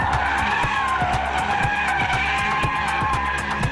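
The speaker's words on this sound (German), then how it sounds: "Dank Allrad lässt sich der Porsche leicht kontrollierbar quertreiben." An all-wheel-drive Porsche 911 Carrera 4S drifting sideways, its tires squealing in a loud continuous skid over a steady engine roar, close and with no talk.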